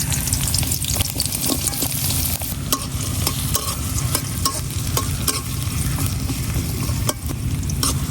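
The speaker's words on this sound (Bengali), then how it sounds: "রসুন আর পেঁয়াজটারে একদম লাল করে ভেজে নিলাম।" Plenty of garlic and onion fry in hot oil until browned, a loud steady sizzle with crackling pops and the scrape of stirring throughout.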